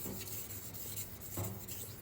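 A kitchen knife is sharpened on a 6000 grit Suehiro Cerax whetstone, giving a steady, close rasping scrape that runs continuously with slight swells as the blade strokes across the stone.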